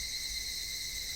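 Cicadas drone in a steady, shrill, continuous chorus, like a hot summer evening in the Higurashi visual novel, faint and even throughout with no other sounds.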